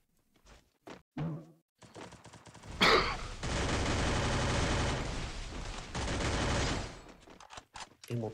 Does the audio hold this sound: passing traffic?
no